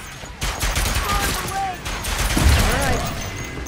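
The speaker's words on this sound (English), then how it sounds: "Bringing out the big guns." Heavy weapons fire in a burst of loud, rapid shots from the PS5 video game Ratchet & Clank: Rift Apart, layered with game music and effects while a person talks over the action.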